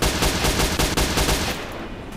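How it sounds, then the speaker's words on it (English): Bursts of automatic gunfire rattle from a distance in a video game, a dense run of rapid shots for about a second and a half before tapering off. "What's that shooting over there?"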